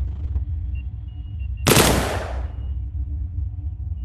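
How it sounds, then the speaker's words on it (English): A single sharp gunshot with a short rushing tail during target-shooting practice in an Oculus Quest 2 VR game tutorial, over a steady low hum. "Try shooting at the target"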